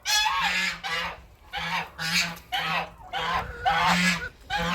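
Swan geese honking loudly in repeated bursts, a flock calling close by in a yard with short pauses between volleys.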